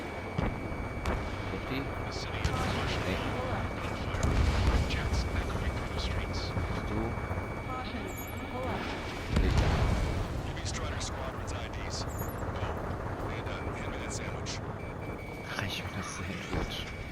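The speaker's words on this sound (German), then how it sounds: "The city under martial law. Gunfire. Jets echoing through the streets." Gunfire and jets echo through a city under martial law in the Ace Combat 7: Skies Unknown video game. Two heavy low booms stand out against a continuous rumbling battle bed, with faint voices in the background.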